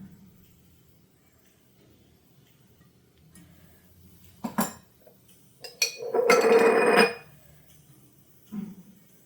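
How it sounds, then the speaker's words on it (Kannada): Pan set down on a kitchen stove with a couple of sharp metallic clanks, followed by a sustained sizzling pour of oil lasting about a second, then a softer clink; no talking. "ಈಗ ಸ್ಟವ್ ಆನ್ ಮಾಡ್ಕೊಳ್ಳೋಣ ಫಸ್ಟು ಪ್ಯಾನ್ ಇಟ್ಕೊಳ್ಳೋಣ ಇದಕ್ಕೆ ಸ್ವಲ್ಪ ಆಯಿಲ್ ಹಾಕೊಳ್ಳೋಣ"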